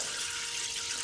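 A portable off-grid shower head sprays water in a steady, close hiss of falling droplets with no break and no voices.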